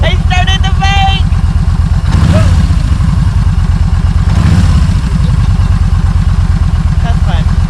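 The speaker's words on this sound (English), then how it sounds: "I started the bike!" A motorcycle engine starts and runs at a steady, loud idle close by, its rapid chugging rumble continuing throughout while voices speak briefly over it.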